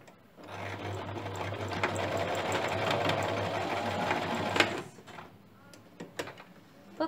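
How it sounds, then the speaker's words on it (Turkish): A sewing machine runs a continuous stitching burst on an envelope-corner blouse seam for about four seconds, then stops, followed by soft handling clicks and fabric rustles nearby. "Ve tırnak ütüsü yaptığım yerlerden makine çekeceğim şimdi."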